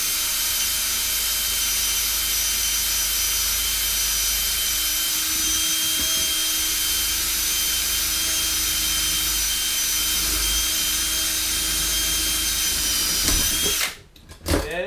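Steady whine of an electric drill boring small pilot holes through stacked steel weld-on expanded trap pans on an MB 550 tractor, running continuously and close before stopping abruptly near the end.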